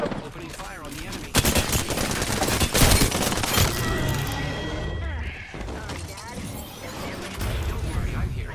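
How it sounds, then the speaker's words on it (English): Rapid bursts of video game gunfire in a battle royale match, loud and dense at first, then continuing in sustained volleys with shell and mechanical clatter mixed in, while a player talks over the action. "Opening fire on the enemy."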